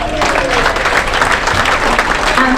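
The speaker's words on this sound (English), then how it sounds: "And please keep that applause going." Sustained audience applause on a cruise ship show for the pastry and head chefs, a dense steady wash of clapping filling the room throughout.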